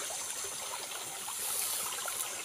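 Continuous rushing water with a steady hiss, like a nearby cascade splashing, with no other sounds, at a waterfall on the Pasong Buwaya trail in Vermosa.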